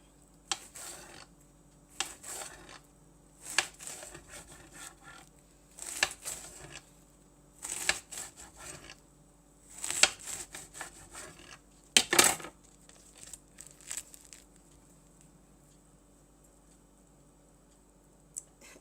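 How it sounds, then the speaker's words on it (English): A knife slices through greens on a cutting surface in short, faint clusters of crisp taps spaced a second or two apart, with quiet pauses between them. "you take a knife and you do your little slices"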